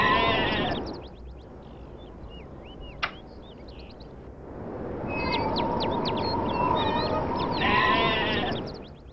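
Goats bleat in The Simpsons: Tapped Out mobile game, in short repeated cries in two bursts, with a brief click between them and game chimes in the background.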